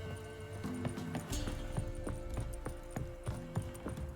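Horse hooves clip-clop in The Witcher 3 video game as the horse is ridden, a steady rhythmic run of hoof strikes over a low game ambience and tonal music bed, fairly quiet.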